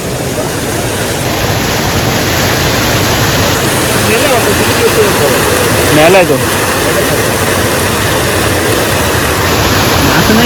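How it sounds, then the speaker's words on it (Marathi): Water from a monsoon-filled dam overflows its spillway with a loud, steady, broad roar that never lets up, while people speak over it close by. "डॅम भरल्यामुळे डायरेक्ट उलतीवर पाणी येतंय"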